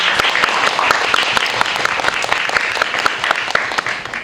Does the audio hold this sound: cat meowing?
no